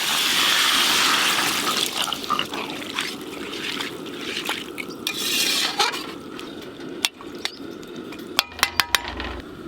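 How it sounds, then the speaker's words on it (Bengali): Water poured into a pan of spiced winter vegetables sautéed with slit green chillies, a broad rushing sizzle that settles into bubbling, followed by a few sharp clinks of a utensil against the pan near the end. "এবার জল দিয়ে দেবো।"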